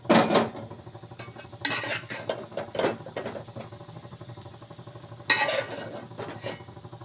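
Noodles with fried egg and onion are tipped into a pan and stirred, metal utensils clattering and scraping against the pan in several bursts over a faint sizzle, nearby and without talk.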